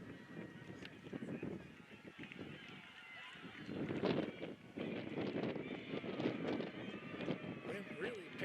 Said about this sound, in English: Wind really picking up now.